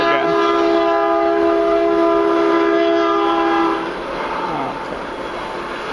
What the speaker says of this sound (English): trying to talk over the train here